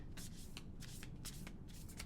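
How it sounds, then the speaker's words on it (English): A deck of oracle cards being shuffled by hand, giving repeated crisp riffling bursts in a steady rhythm over a low background hum, close and fairly loud with no talking. "Let's shuffle one more time, and I'm going to go through it."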